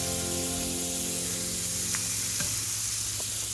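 Shrimp hits a hot skillet and sizzles loudly and steadily throughout, a dense frying hiss with a few brief clicks from the pan, no talking.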